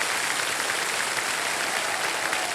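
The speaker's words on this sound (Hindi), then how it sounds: "सारे जोरदार तालियां बज जाए।" Studio audience applause on the Indian quiz show Kaun Banega Crorepati, season 17, a dense, steady roar of clapping that fills the clip at full level with no voices over it.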